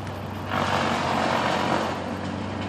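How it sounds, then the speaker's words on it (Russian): Wood chipper shredding wood during outdoor work near private houses with gardens, a loud, broad grinding roar that swells in and holds steady, heard from nearby with no talking. "Древесину измельчают."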